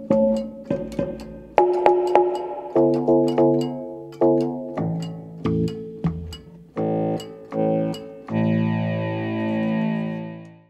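A small MIDI synthesizer with a selector dial plays short phrases through several different instrument voices in turn, each set of notes clear and close, ending on a sustained chord with a buzzy, effected tone.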